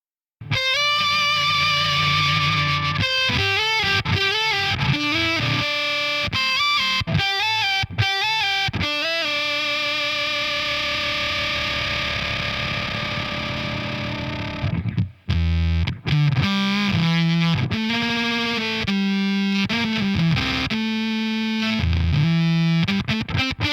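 Fuzz pedal cranked to maximum gain on an electric guitar, very noisy and saturated: loud buzzing distorted notes and bends played alone, with a brief cut around the middle before more thick, hissy fuzzed riffs.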